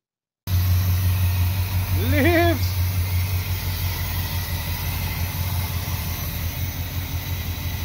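Idling V8 engine of a 1964 Pontiac Catalina, rebuilt and smoking, a steady low rumble running evenly throughout, with a short voice heard over it early on.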